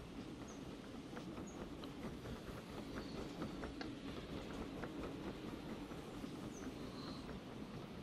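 A train in the railway game Derail Valley rolls along the rails with a steady rumbling drone, rhythmic clickety-clack from the wheels and occasional faint squeals, continuous and fairly quiet.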